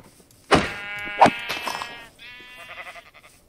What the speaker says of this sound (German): Oh, da sind Schafe.